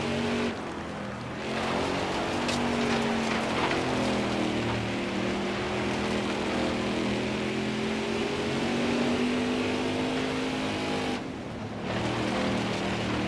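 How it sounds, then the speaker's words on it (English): Simulated race car engine in NASCAR Heat 4, a steady loud drone with the pitch wavering as the throttle is feathered to rotate the car through a corner, briefly dipping near the start and again late. "there you hear us feathering the throttle to get the car to rotate in the corner"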